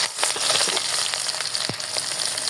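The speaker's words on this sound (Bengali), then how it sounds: "এই যে পেঁয়াজ মরিচ দিয়ে দিই" Onion and chili sizzling and frying in hot oil in a wok, a steady broadband crackle with small pops and stirring scrapes, close and continuous with no talk.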